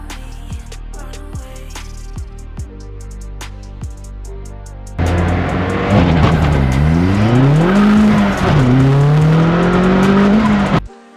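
A turbocharged 330 bhp Vauxhall VX220 idles with sharp blips, then roars into a hard 0-60 mph launch, revs climbing and dropping through gear changes before cutting off.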